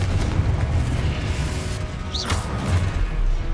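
A Confringo explosion spell in the video game Hogwarts Legacy, a loud, deep booming blast with rumbling low end that fills the moment alone, with a brief whooshing streak partway through.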